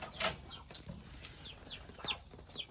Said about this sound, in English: That big gray duck there, she's a Swedish blue, which is actually an endangered species.